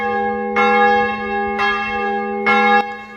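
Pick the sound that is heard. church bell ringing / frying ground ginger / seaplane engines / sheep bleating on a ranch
church bell ringing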